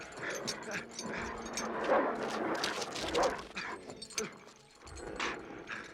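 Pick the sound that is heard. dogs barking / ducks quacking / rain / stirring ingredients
dogs barking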